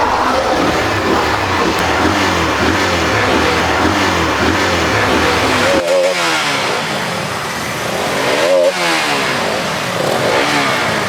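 A car engine runs steadily and loudly, then revs up in two sharp bursts with rising whines partway through and near the end. Vehicle noise fills the whole stretch with no talking.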